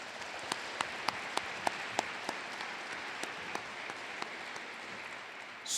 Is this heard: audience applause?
yes